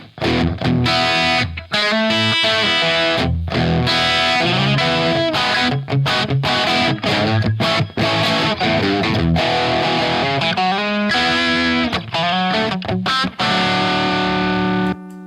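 Electric guitar driven hard through a Rat distortion pedal into a low-voltage 6L6 amp prototype, loud, continuous, gritty riffing and chords with quick choppy breaks, played alone without talk.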